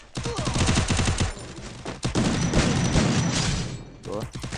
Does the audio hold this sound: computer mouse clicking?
no